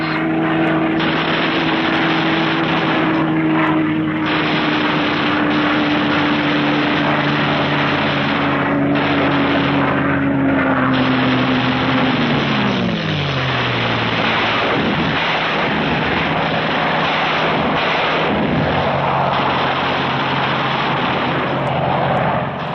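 Fighter planes of 1945 skim along at top speed, a loud continuous engine roar with a droning tone that holds steady and then sweeps downward as the aircraft pass, filling the whole clip without speech.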